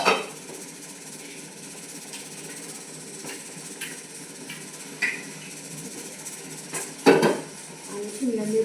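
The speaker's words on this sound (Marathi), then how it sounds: "आता आपण फोडणी देऊन घेऊ." Tempering spices in a pan for capsicum curry, with a low hiss under scattered metallic clinks and scrapes of a utensil against cookware, close and moderately loud.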